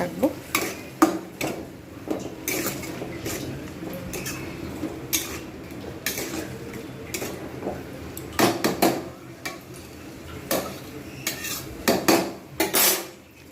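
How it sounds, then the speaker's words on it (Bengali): Spices being stirred and sautéed in a cooking pan for a prawn curry, with repeated close metallic clinks and scrapes of a utensil against the pan in an irregular rhythm over a soft sizzle. "আমি কিন্তু এগুলো সব এইভাবে কষাতে থাকবো"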